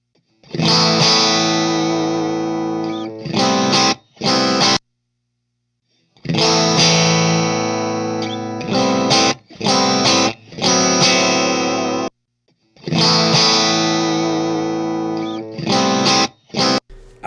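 Electric guitar through a Matchless AC30 amp with Celestion Gold and Greenback speakers, loud driven chords and ringing phrases in three bursts separated by short silences, with no talking.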